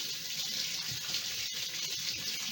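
Hands being rinsed under a running kitchen tap while preparing to make guacamole, a steady broadband rush of water splashing continuously and fairly close, with no talking over it.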